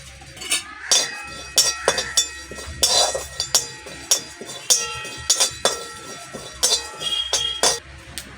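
Cumin seeds dry-roasting in a hot, oil-free kadai on a lit stove, with a metal spatula clinking and scraping against the pan in repeated sharp, close strikes.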